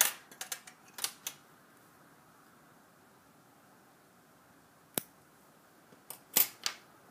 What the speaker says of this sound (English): Cut off the extra.